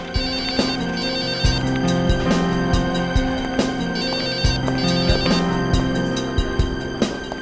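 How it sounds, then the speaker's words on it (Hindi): A mobile phone ringtone rings inside an office cabin, repeating a loud electronic melody in a steady looping pattern with no voices. "आपका फोन बज रहा है"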